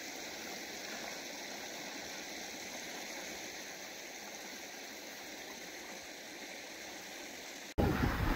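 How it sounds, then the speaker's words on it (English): A river with a whirlpool flows steadily as a soft, continuous rushing hiss heard from a distance, with no voices, until an abrupt louder rumble of wind or handling noise in the final half second. "I just saw this pretty cool whirlpool down in the river there."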